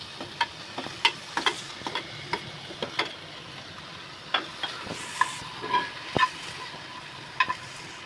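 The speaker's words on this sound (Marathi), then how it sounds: "आता हे टमाटर भाजून घेते" Tomatoes roast in hot oil in a pan with a soft, quiet sizzle and scattered sharp pops and crackles spread unevenly through the stretch.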